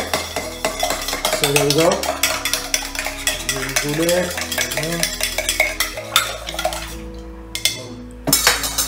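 Ingredients for a Bishop cocktail with white wine being stirred, steady clinks and scrapes of a spoon against glass running through most of the stretch, close and clear, with music playing underneath and a brief spoken line near the end.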